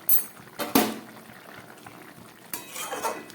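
Curry gravy of drumsticks and potatoes, sweetened with a little sugar, boiling over high flame in a pot, with bubbling liquid and a couple of clinking pot or utensil knocks near the start and a later burst of clatter.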